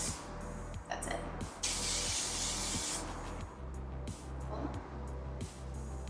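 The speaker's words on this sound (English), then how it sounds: "I'm going to finish with the Touchable Hairspray" Touchable Hairspray misted lightly onto styled hair, a couple of short aerosol hisses with one longer spray in the middle, close and fairly quiet.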